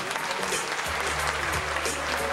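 Applause for invited guests at a 1998 anniversary ceremony of the Pousada do Rio Quente hotel: a steady, dense clapping from a large audience, with a low hum underneath and no voices.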